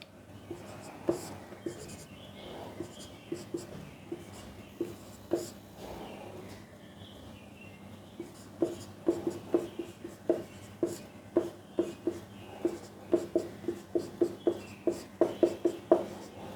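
Chalk taps and scrapes across a board in a physics class as a long equation is written. The strokes come sparse at first, then in a quick steady run, close by and moderately loud.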